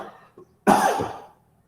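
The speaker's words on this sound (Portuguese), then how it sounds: "Eu tô tossindo, gente" A single harsh cough bursts out close by, preceded by a faint throat noise, then quiet.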